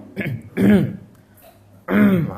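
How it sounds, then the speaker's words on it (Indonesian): A voice clears its throat in two short, guttural bursts separated by a brief pause, close and loud. "Mendehem-dehem."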